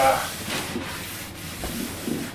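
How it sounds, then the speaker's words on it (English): Sandpaper rubs steadily back and forth across a sprayed clear coat, giving a continuous close scratchy hiss with faint rhythmic strokes. "mainly it just sands them really, really nicely"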